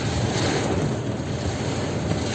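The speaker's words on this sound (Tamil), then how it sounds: "ஸ்ரீலங்காவில் மழை வந்துருச்சு" Heavy rain in Colombo, Sri Lanka, a dense, steady broadband roar of downpour that continues without a break, loud and close to the microphone with possible wind buffeting and no talking.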